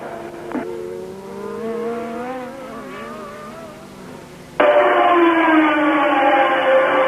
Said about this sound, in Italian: transita la macchina di Stohr, e si fa luce in distanza la Renault Turbo di Alain Prost